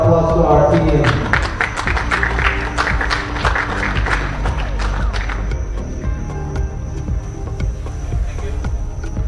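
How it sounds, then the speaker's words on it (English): A live audience at the men's grand finals of an Asian heyball championship applauds the event team, with a burst of loud clapping that fades into scattered claps over steady hall noise. "So let's give a big round of applause to our team."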